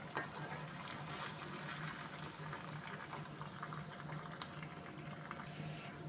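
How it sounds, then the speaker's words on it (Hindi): Onions for a jackfruit sabzi fry in a pan over a low to medium gas flame, producing a quiet, steady sizzle with faint crackles throughout. "अब देखिए मैंने डाल दिया है प्याज और इसको अब थोड़ा ब्राउन होने तक, गोल्डन ब्राउन होने तक भूनेंगे।"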